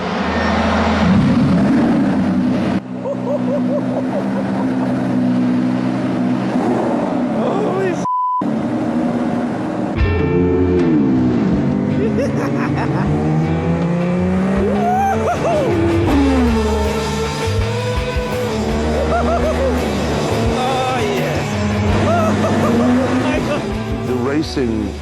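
McLaren MP4-4 Formula 1 car lapping a circuit, its loud engine note rising and falling through gear changes as it brakes and accelerates around corners, with talk over the roar.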